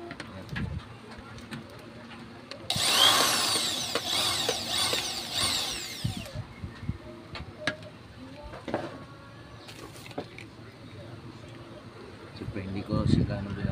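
A power drill driving a screw into a window sliding screen, a loud whirring buzz for about three seconds amid handling clatter, with intermittent talk nearby.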